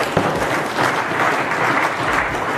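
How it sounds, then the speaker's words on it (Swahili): A crowd at a political rally claps steadily, a dense, continuous wash of applause that stays loud and close throughout with no voices above it. "tumpigie makofi ya kutosha"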